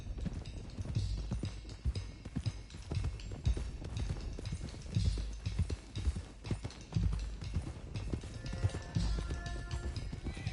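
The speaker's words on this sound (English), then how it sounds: "let's get these horses to Clemens Cove quick before we run into any more trouble" Horses being driven toward Clemens Cove in a PS4 game, with steady, close clip-clop hoofbeats in a quick rhythm and occasional soft snorts and rustle.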